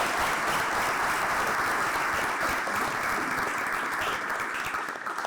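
An audience at a business breakfast welcomes a fire chief with dense, continuous clapping that fills the room at even loudness for about five seconds, fading slightly at the end.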